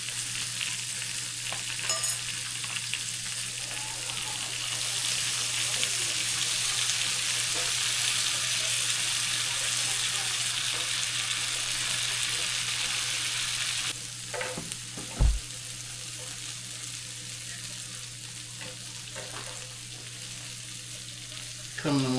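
Onions frying in butter on a grill hiss in a steady, loud, close sizzle that drops off partway through, followed by a sharp metallic knock and lighter crackling.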